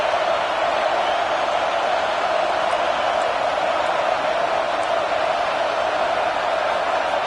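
Steady crowd roar fills a stadium in the college football video game College Football 26, Georgia playing, holding at an even, loud level throughout with no clear peaks or voices.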